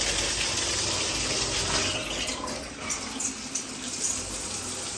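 Water pours steadily from a rainfall-style waterfall shower head in a hotel bathroom, a continuous broadband hiss and splash that stays close and even throughout, with no talking.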